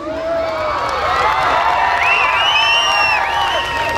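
An outdoor event crowd cheers and shouts loudly for a little girl, with children's voices and whoops rising over a dense, sustained roar of applause.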